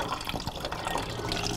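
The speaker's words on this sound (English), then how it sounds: "I'll wait till it stops draining." Coolant pouring steadily out of the radiator drain of a 2004–2007 Honda CBR1000RR sport bike, a continuous close splashing trickle of liquid, with no talking.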